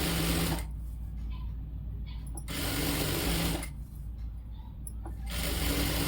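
A sewing machine stitches the lining fabric of a baby frock, whirring in two steady runs with brief pauses between them, close and clear.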